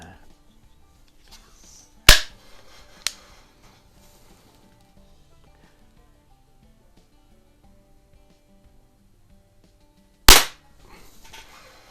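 A Beeman P3-type single-stroke pneumatic air pistol fires two loud, sharp, close cracks several seconds apart, with a fainter click in between against a quiet background.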